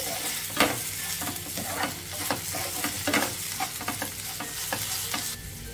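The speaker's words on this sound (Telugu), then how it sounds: "ఇప్పుడు ఒకసారి కలిపేసేసుకుందాము" A spoon turns sliced okra and lightly fried onions with turmeric and salt in a pan, making a run of regular scraping strokes over a low, constant sizzle, with no talking.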